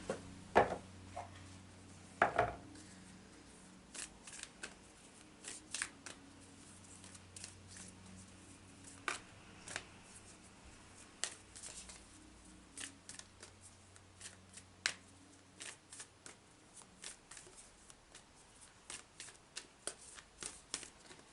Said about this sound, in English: I'm just going to go to the Lightworker Oracle now and see what card the guides want to show us